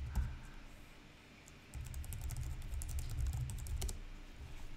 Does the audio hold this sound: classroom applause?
no